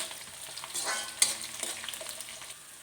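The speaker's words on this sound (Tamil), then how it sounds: "இப்போ இந்த கத்திரிக்காவை அதில் போட்டு நல்லா சுருளில் வதங்கணும்." Brinjal (eggplant) frying and being stirred in hot oil in a pan for a Chettinad-style kulambu, a steady close sizzle with scraping stir strokes and one sharp clink, no talk.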